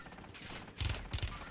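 Gunfire in the video game Black Ops 7, with three or four heavy bursts of shots arriving in quick clusters over a busy background hiss.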